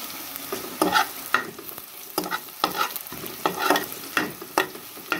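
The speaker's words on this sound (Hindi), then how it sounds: "अब इसमें लहसुन अदरक का पेस्ट ऐड करते हैं।" Garlic ginger paste hits a hot frying pan for aloo gobi, giving repeated bursts of sizzling and stirring scrapes in an uneven rhythm, close and fairly loud with no talking.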